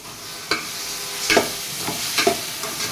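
Prawns frying in a pan with onion and tomato masala, a continuous hiss of sizzling broken by several sharp scraping stirs close by.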